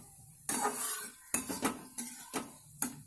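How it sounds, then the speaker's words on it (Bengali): Ash gourd pieces stirred in a metal pan, a spoon scraping and clinking against the pan in about six separate strokes, close and fairly quiet, with no speech. "একটু নাড়াচাড়া করে নেবো।"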